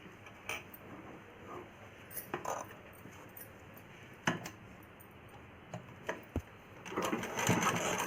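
A sewing machine stitches a child's umbrella frock: scattered clicks and handling taps, then a steady run of the needle building toward the end, close and fairly quiet.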